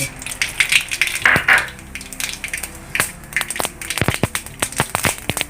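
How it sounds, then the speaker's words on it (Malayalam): Mustard seeds burst in hot coconut oil, a quick irregular string of sharp close pops and crackles over a faint sizzle, with no speech. "ആ കടുക് പൊട്ടി തെറിക്കുമ്പോൾ"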